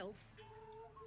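A chicken clucks in the fantasy role-playing video game Baldur's Gate 3, a faint series of warbling, throaty clucks at low volume.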